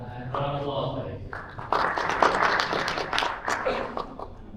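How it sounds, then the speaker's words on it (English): An audience at a Middle East blockchain conference applauds after a speaker's introduction, a moderate wash of clapping that swells midway and continues under a voice. "Welcome, and round of applause, please."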